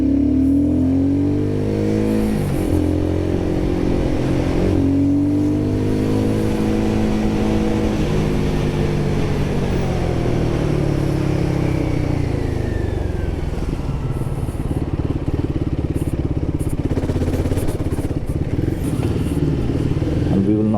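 A Royal Enfield Guerrilla 450 motorcycle ridden up close, its engine loud and continuous, revs rising and dropping as it turns and slows.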